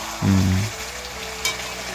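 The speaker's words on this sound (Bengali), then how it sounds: "আজকে অনেকদিন পর এই যে আবার মাংস রান্না করছি" Meat cooks in a pan with an even frying hiss, opened by a short, loud low-pitched thump and followed by a brief sharper clatter midway.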